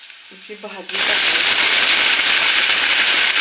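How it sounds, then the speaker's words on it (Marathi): Chickpea greens hit a pan of reddened garlic: a voice is heard briefly, then a sudden loud, dense sizzle bursts up and roars on steadily. "लसूण थोडा लालसर झाल्यानंतर भाजी"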